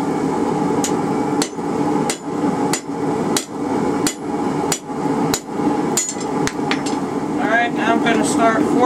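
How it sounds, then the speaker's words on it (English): A hammer strikes a hot cut chisel driven through hot steel while forging a hold-fast, about a dozen loud, sharp, ringing blows in a fairly even rhythm, with brief metallic scraping between them and no talk. "Trying to cut the center with our hot cut."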